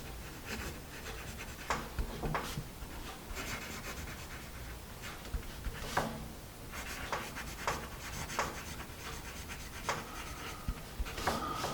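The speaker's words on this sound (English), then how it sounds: "Let's write a little bit more" Paper Mate Exam Standard graphite pencil writing on paper, a steady soft scratching with brief sharper strokes, close and fairly quiet with no talk.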